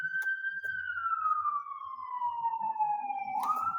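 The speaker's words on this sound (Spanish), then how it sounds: "La ambulancia." Ambulance siren passing outside during a physiology lecture, a single sustained wail sliding slowly downward then rising again, moderately distant with a few faint knocks beneath.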